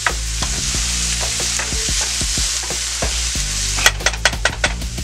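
Food cooking in a pan sizzles continuously while a utensil stirs and scrapes, with a run of sharp knocks and taps against the pan toward the end.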